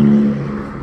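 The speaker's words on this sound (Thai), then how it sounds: "ขออภัยนะครับเสียงรถดังหน่อยอยู่ใกล้ถนนนี่ฮะ" A car passing along a nearby road, a loud engine whir and rush that peaks at the start and then gradually fades as it moves away.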